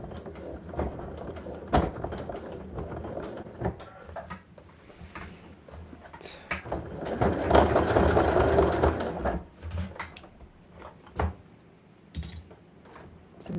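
A sewing machine works on a fabric side pouch, with a steady mid-level run of stitching, surrounded by intermittent clicks, knocks and handling sounds as the needle is repositioned and the fabric adjusted.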